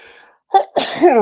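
A single sharp human sneeze, with a short intake of breath before an abrupt, loud burst close to the microphone, heard alone and over within a second.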